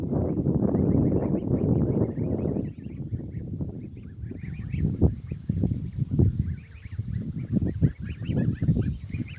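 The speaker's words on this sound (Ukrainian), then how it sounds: "Пастух вийшов гуси пасти." A flock of geese honks and cackles continuously at close range, many overlapping calls forming a noisy, chattering chorus with no speech.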